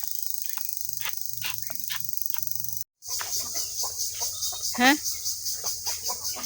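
Village chickens cluck steadily in a rhythmic, repeated pattern close by, with a brief cut partway through and a voice speaking a word over them.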